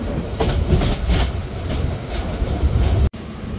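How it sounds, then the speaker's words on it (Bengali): A Chattogram Mail passenger train pulls out of Dhaka Airport railway station, heard from inside a cabin as a loud continuous rumble with rhythmic wheel clatter and a brief cut near the end. "ট্রেনটি ছেড়ে যাচ্ছে ঢাকা বিমানবন্দর রেলওয়ে স্টেশন"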